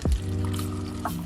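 Water pours into a blender jar for a smoothie, a short gurgling splash at close range with a rising hollow tone as the jar fills.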